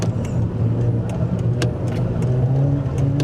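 A Cupra K1 car with around 400 horsepower drives under steady load, its engine a continuous loud mid-pitched drone with slight rises in revs, heard from inside the car without talk.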